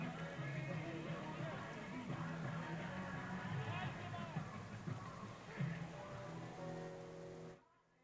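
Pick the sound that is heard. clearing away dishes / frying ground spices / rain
rain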